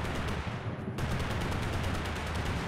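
Rapid gunfire from a gun in the video game TABG, a dense continuous burst of loud shots with a brief dip near the start before the firing resumes at full intensity.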